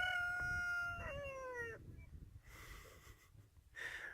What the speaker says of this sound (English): Wow, these roosters are very loud.